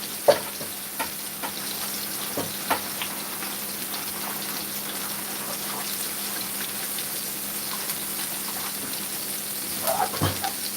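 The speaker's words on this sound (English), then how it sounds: "Our chicken is braising" Chicken breast braising in a pan, a steady soft sizzle and bubbling simmer running throughout at moderate level, with a few brief clinks or stirring bumps scattered across it and no voices.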